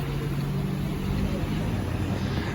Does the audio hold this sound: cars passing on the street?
yes